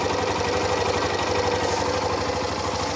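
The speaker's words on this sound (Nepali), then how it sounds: "1 वर्ष हुँदाखेरि यसको इन्जिनको आवाज सुन्नुहोस्" A Hero Xtreme 125R motorcycle at one year old runs its 125 cc engine at a steady idle, a close, even, throbbing rumble with no talk.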